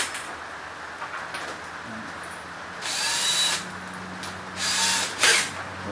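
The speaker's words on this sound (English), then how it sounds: "Drill my pilot hole first." An electric drill bores a pilot hole into an acoustic guitar body, running in short whirring bursts with gaps between them, loud and close with no talk.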